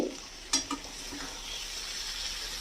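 Spring onion greens and eggplant stirred gently with spices in a frying pan, a steady soft sizzle with a couple of light scraping knocks of the spoon against the pan early on.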